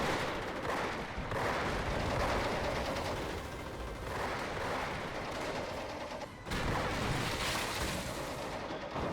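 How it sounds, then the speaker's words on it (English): An AT gun and a light tank fire in a Company of Heroes 4vs4 battle, EF mod. Dense, continuous battle noise of shots and explosions carries on without a break, with one short dip midway. "The tank needs to retreat since the AT gun and the light tank are firing at him."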